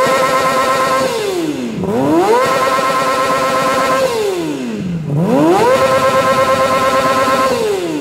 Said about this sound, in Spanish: vamos a pedirle con un fuerte aplauso a Guillermo que encienda su moto